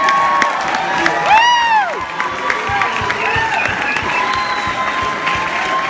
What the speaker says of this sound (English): One more round of applause for Bigge.